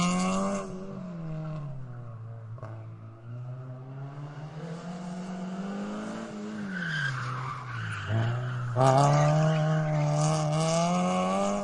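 A car swerving hard into a sudden aggressive left turn, tires squealing and skidding in a long sustained screech with rising and falling pitch, loud and close, swelling louder near the end.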